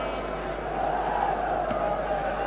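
Crowd at Headingley stadium in Leeds for a 1983 rugby league Challenge Cup semi-final, a steady distant murmur of many voices across the ground, continuous and even.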